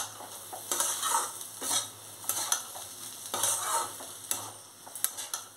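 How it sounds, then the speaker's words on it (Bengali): Rice and spices for pulao stirred in a pan, rhythmic scraping sweeps of a spoon repeating every second or so over a faint sizzle, quiet and close, with no speech. "এগুলো দিয়ে আমি আরেকবার ভালো করে নেড়ে নিচ্ছি এগুলোর সঙ্গে"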